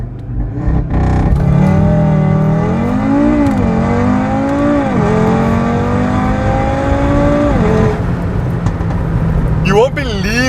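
An Audi RS3 tuned past 420 kW makes a launch in sport traction mode, its engine revving hard and climbing through several gear changes, loud and close, with a brief pause before a final rising rev and tire noise.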